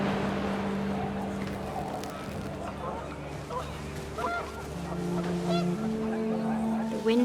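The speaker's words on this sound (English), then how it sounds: "The wind picked up, and panicked geese appeared and quickly went." Panicked geese honk in a windy outdoor scene of the video game What Remains of Edith Finch, a cluster of nasal calls over several seconds layered on a droning background, with a voice speaking over part of it.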